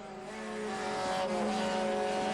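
Race cars contest close hub-to-hub racing at Watkins Glen, heard on board a Lexus: a loud, steady engine drone that builds slightly and holds, with faint tire noise and no talk.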